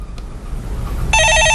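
A telephone rings loudly and close by in a quiet room, one bright electronic ring burst starting partway through and continuing to the end.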